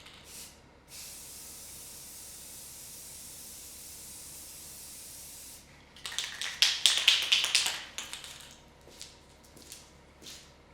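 Clear coat sprayed from a can onto a guitar headstock: a long, steady close hiss for about five seconds, then a burst of shorter, louder sputtering sprays and taps that fade out.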